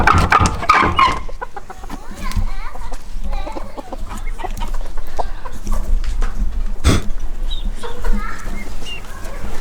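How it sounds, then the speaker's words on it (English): A dun mottled hen and rooster cluck in a busy farmyard, short clucks scattered among steady background chatter and children's voices, with a louder burst at the start and a sharp knock midway. "A dun mottled hen over here."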